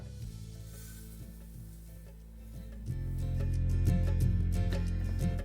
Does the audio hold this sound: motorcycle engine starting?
no